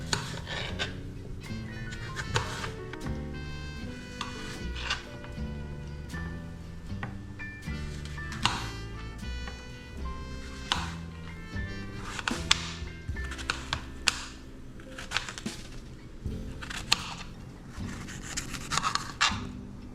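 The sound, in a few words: cutting apples and removing the cores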